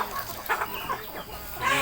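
Free-range farm chickens raised on natural feed cluck and murmur close by in short, uneven bursts, with no talking.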